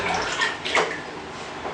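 Water is poured over feet inside a steam sauna tent, a short splashing trickle with a brief gurgle partway through, close and fairly quiet.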